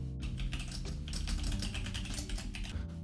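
Steady, close typing on a computer keyboard while writing Python code, dense rapid key clicks running continuously without pause.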